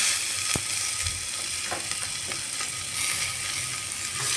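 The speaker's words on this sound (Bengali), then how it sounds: "পেঁয়াজটাকে একটু হালকা ফ্রাই করে নিচ্ছি পেঁয়াজের কালারটা একটু চেঞ্জ হয়ে আসছে" Onions lightly frying in a pan for a rajma puri breakfast, a soft steady sizzle with a few faint stirring clicks, close and quiet, no voices.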